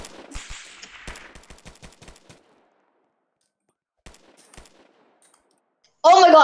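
Rapid bursts of gunfire, likely from a video game, crack out in quick succession for a couple of seconds, followed by a few isolated shots and then a loud burst of noise at the end.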